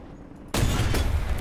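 A single heavy weapon shot from a tank in War Thunder, a sudden loud boom after a quiet moment, followed by a sustained rumbling roar that fills the rest of the moment.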